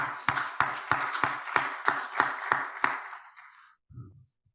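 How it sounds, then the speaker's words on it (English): A small audience claps at a talk, about nine evenly spaced, fairly close claps in a steady rhythm that trail off, followed by a brief murmur of voice. "Round of applause for that question."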